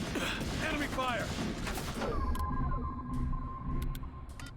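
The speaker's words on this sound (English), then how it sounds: "Enemy fire!" Gunfire from a firefight in the video game The Bureau, dense crackling bursts mixed with in-game voices in the first half, then sparser sharp shots over a steady tone.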